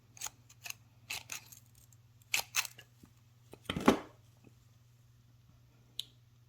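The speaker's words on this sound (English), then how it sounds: "So we'll just cut off the excess roots." Scissors snipping off the excess roots of flower cuttings, a series of crisp close snips and crunches in irregular clusters over a faint background hum, with a final isolated snip.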